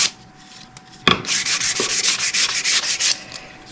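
Light hand sanding of wood for a veneer lamp: a steady run of close, rhythmic rasping strokes starting after a brief pause, roughly a dozen back-and-forth passes, loud and alone with no voices.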